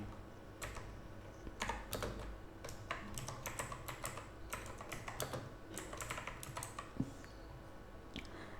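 Rapid keystrokes on a computer keyboard as a search is typed, a quiet, close run of irregular clicks in short bursts with brief pauses, no voices.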